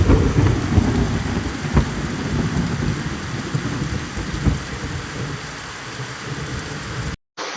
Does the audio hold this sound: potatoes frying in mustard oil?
no